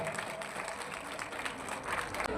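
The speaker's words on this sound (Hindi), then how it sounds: "जोरदार तालियां बजनी चाहिए" Steady applause from a crowd at a community hall inauguration event, a dense even patter of clapping held at a moderate level throughout, with no clear pauses.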